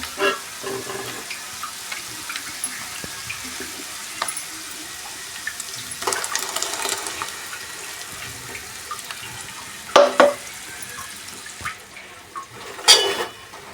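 Tomato curry poured into a pot of fish stew already cooking with curry leaves and turmeric, giving a wet, splashing pour with a few louder sloshes near the end, fairly close and with no talking.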